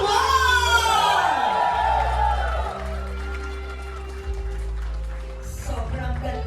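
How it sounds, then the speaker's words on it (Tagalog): Party crowd at a year-end company celebration cheering and whooping loudly over a host's amplified voice, with music and shouting filling the room and a scattered burst of clapping near the end. "Mas malakas pa na hiyawan!"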